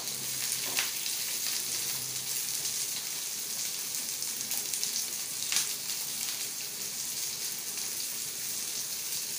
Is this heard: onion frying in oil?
yes